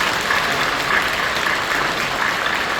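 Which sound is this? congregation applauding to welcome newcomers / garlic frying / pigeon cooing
congregation applauding to welcome newcomers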